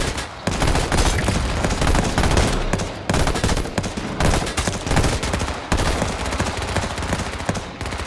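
Dense gunfire in the battle-royale video game H1Z1, with rapid automatic bursts rattling nonstop at high volume and only short breaks between volleys.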